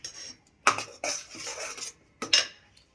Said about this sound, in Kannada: 3 ಪೇಸ್ಟ್ ಹಾಕ್ಕೊಂಡು ಚೆನ್ನಾಗಿ ಮಿಕ್ಸ್ ಮಾಡ್ಕೊಳ್ಳೋಣ